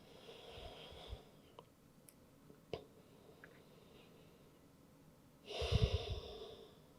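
Slow, soft breathing during a yoga child's pose, a faint inhale early on and then a louder, rushing exhale near the end in a quiet room.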